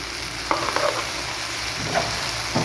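Spices and peppercorns crackling in hot oil in a pan, a steady sizzling hiss with a few soft pops and stirring scrapes, close and continuous, without talking.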